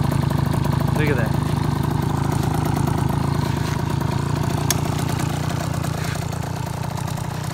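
A 2004 KTM 50cc mini motorbike engine idles steadily up close, a continuous low putter running evenly throughout with a brief metallic clink partway through.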